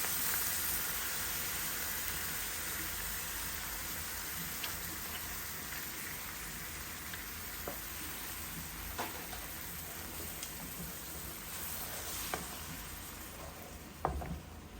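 Cream being stirred into a dish in a frying pan over low heat: a soft, continuous sizzle with scattered small ticks and taps from the utensil, quiet and without talk.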